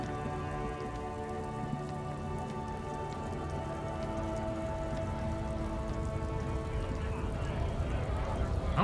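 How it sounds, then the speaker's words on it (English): Steady rain in the video game Disco Elysium, a constant dense patter holding level throughout under a bed of music, with no gaps or build. "Stuck in the rain in a traffic jam, man."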